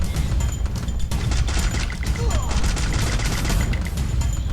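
Gunfire in the Free Fire battle royale game crackles in rapid bursts and scattered shots under dense background clatter, loud and continuous, with excited voices talking over it.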